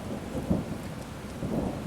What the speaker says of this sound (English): rain, hail, and thunder all day long